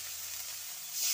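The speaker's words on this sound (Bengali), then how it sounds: "এখন মশলার জন্য ভাজার জন্য একটু জল দিয়ে দেবেন" Spices frying in a pan with a little water added hiss in a soft, steady sizzle that swells louder near the end, close but fairly quiet.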